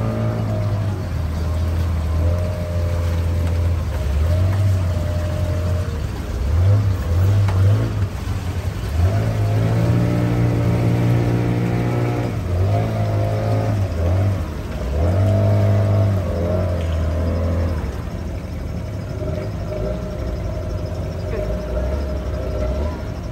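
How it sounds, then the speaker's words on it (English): Boat engine pushing a pontoon platoon on a river in Guyana's interior, a steady close mid-pitched drone that rises and falls in pitch as it revs through the run, with people talking over it at times. "our engine to push this boat, this platoon."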